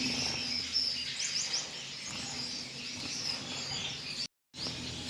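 Gouldian finches give thin, high chirps and short tweet bursts, fairly faint and scattered over a quiet background with no talking.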